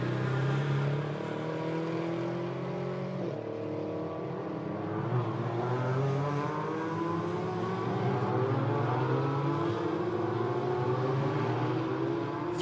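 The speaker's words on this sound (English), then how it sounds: "And now look, the Porsche gets onto the back of the Audi, and that enables Igor Egelchik's Porsche to" GT4 race cars, a Porsche and an Audi, racing at Hockenheim, their engines droning loudly and continuously with pitch climbing and shifting as they accelerate through the corners.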